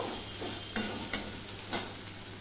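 Chopped onion and garlic frying in oil until reddish, a steady close sizzle with a few sharp scraping stirs at regular moments, no one talking.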